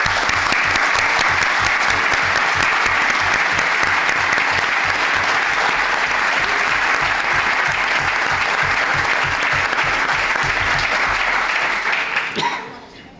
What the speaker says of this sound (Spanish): yo creo que un aplauso se lo tenemos que